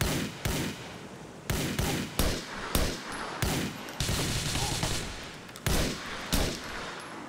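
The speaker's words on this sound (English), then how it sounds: "get out our trusty sniper rifle" Sniper rifle gunfire in Grand Theft Auto IV, a series of loud, sharp shots cracking out at irregular intervals, each one followed by a short ringing tail over a steady background of game ambience.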